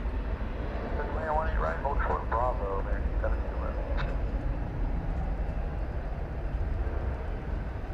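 An Airbus A319 airliner lands at DFW Airport, heard from a spot overlooking runways 18 Left and 18 Right on the airport's west side. A steady, heavy roar runs throughout, with a voice talking over it during the first few seconds.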